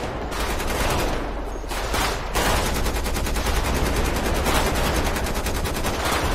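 Sustained automatic assault rifle fire in GTA 5, loud and continuous rapid bursts running almost the whole time with a brief lull near the start, no voices.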